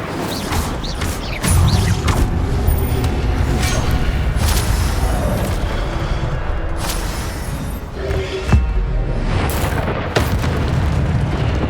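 Incendio fire spells cast repeatedly in Hogwarts Legacy, a continuous loud barrage of fiery bursts, booms and crackling pops with sharp impacts scattered throughout, close and dense, no speech.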